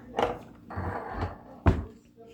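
A wooden cabinet door pushed shut by hand, with no soft-close action: two distinct close thuds about a second and a half apart, with a voice heard between them.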